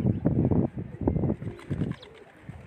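Sona breed pigeons coo in repeated low, throaty bursts, close by, several rounds in quick succession with no talking.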